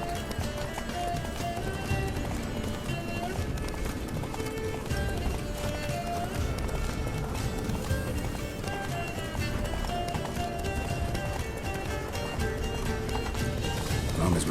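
Roach the horse galloping in The Witcher 3: Wild Hunt, a continuous rapid clip-clop of hooves running steadily under a dense layer of game music, with a brief neigh possible amid the racing hoofbeats.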